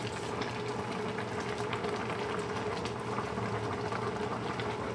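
Shabu-shabu broth boiling steadily in a covered pot, making a continuous bubbling, seething hiss with a low burbling underneath and no voices.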